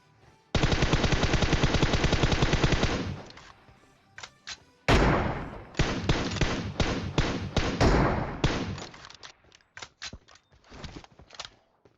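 Rapid automatic gunfire in PUBG Mobile, a long sustained burst followed by several shorter volleys and scattered single shots, loud and close.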